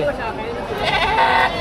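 Goats bleat at a Philippine livestock market where cattle and carabao are also sold. The cries are close and wavering, with people talking over them.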